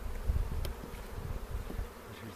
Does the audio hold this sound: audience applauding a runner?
no